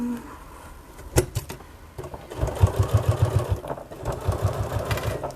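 A domestic sewing machine stitches a fabric bag in short bursts of rapid, even needle clatter separated by brief pauses, close and clear with no talking.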